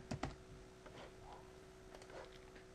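A computer keyboard is typed on quietly while a cursor instance name is entered in Flash, giving a short run of soft, uneven key clicks over a faint steady hum.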